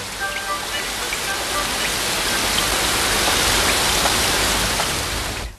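Rain falls steadily as a dense, even hiss of drops striking surfaces. It is close and constant throughout, with no voices over it.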